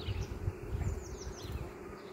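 A steady, low buzzing hum of many honeybees at a hive, continuous and fairly close, with faint high chirps drifting in the background.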